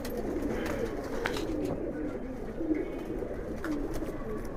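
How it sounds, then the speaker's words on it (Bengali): Soft, steady cooing of a racing pigeon hen, a Giribaz-line bird from the Lalbagh 112 km tournament, rolling continuously at close range against a loft background. "খুব সুন্দর একটা কবুতর।"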